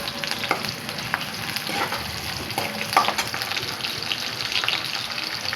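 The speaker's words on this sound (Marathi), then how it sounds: "आता हा आपण चांगलं तळायचं, चांगलं म्हणजे लाल नाही तळायचं जास्त, नॉर्मल." Shev bhaji masala fries in a pan with a steady, close sizzle, while a spoon scrapes and stirs through it now and then.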